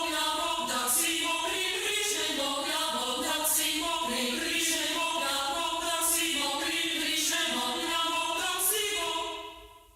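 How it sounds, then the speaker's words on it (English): Short staccato choir patch in FL Studio, altos tracking a piccatissimo violin melody an octave up, with chopped vocal syllables pulsing rhythmically over a busy orchestral texture for about ten seconds before fading out at the end. "the choirs, the short staccato choirs."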